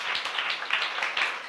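A church congregation keeps clapping during a sermon, an uneven patter of many hands with a few sharper claps standing out, moderately loud.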